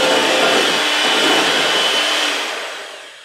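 An electric hand mixer beats muffin batter on its low speed, giving a loud, steady whirring motor drone that fades slightly toward the end.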